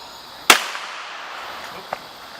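A single sharp gunshot cracks out during police firearms training at a range, followed by a fainter second shot about a second and a half later, both outdoors with a short echoing tail.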